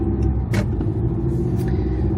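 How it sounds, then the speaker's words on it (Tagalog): Car passing close by outdoors, a steady broadband road rumble with engine drone throughout, swelling slightly as it goes past. "Turn muna tayo, ha? Kasi may sasakyan eh."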